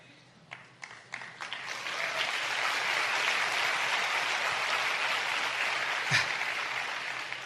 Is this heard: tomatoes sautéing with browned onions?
no